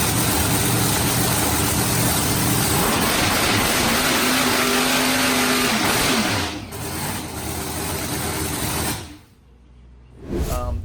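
A turbo pro mod drag car engine barks and revs loudly during warm-up, with a dense roaring drone, a couple of rising throttle sweeps, then a sudden drop to near quiet before another short blast.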